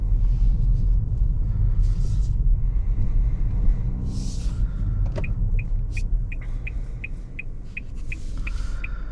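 Low, steady engine and road rumble inside a 2025 Nissan Altima SL AWD on the move, with a faint series of regular indicator-like ticks partway through.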